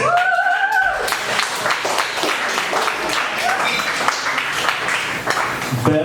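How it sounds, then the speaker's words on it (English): A comedy club audience applauds a stand-up comedian, with brisk clapping and some cheering over music that fades in the first second, the applause continuing busily throughout. "Please give a big round of applause for Lee Cross"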